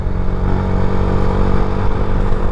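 Yamaha Sniper 150 motorcycle with a 14-42 sprocket set revving hard in third gear, a loud, steady, close engine drone with constant mechanical clatter, no voices.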